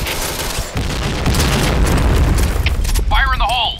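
A grenade explodes in a video game, a loud rumbling boom that fills the low end and rolls on for several seconds, with a brief whooshing or whistling effect near the end.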